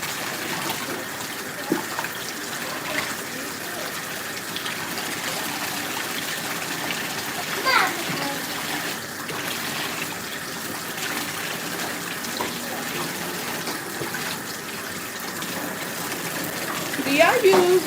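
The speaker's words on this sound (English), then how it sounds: "I use vinegar and water to clean my chicken." Kitchen tap water running steadily while raw chicken is washed for a chicken and shrimp alfredo dinner, a continuous close gushing stream with faint handling noises and a voice briefly speaking near the end.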